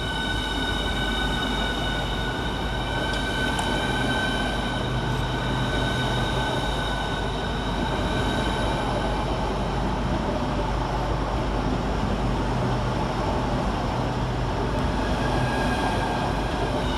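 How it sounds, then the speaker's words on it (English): A Southeastern High Speed Class 395 pair departs London St Pancras on a Margate service, with a loud, continuous rumble and a steady electric whine that hold throughout. No voices are heard. "Next out to depart is 395020 and 395011 with the 11:37 Southeastern High Speed service to Margate"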